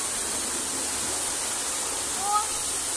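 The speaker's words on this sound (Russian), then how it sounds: "Вода под давлением." Water spraying under pressure, a steady broad hiss throughout with a short faint tone near the end.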